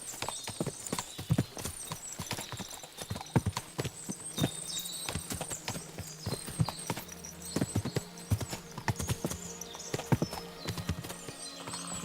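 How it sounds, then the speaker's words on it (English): Many horses' hooves clip-clopping in an irregular, overlapping rhythm in the video game Kingdom Come: Deliverance II, close and fairly loud, with an occasional whinny over a faint background hum. "What a lot of horses!"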